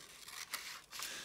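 Scissors snipping through material while prepping art supplies, two or three quick cuts close by against a quiet room.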